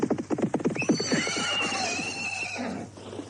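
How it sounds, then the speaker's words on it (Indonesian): A horse whinnies loudly with a long, wavering call while a rider approaches, its hooves clopping rhythmically beneath the neigh, with no speech. "Untuk apa penunggang kuda ini mendatangi aku?"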